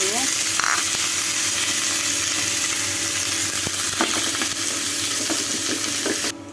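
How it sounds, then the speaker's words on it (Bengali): Chicken nuggets frying in a pan of oil, a steady close, loud crackling sizzle throughout with occasional clinks and stirring sounds. "এই যে আমার নাগেটসগুলি ভাজা হয়ে গেছে, এখন আমি উঠিয়ে নেব"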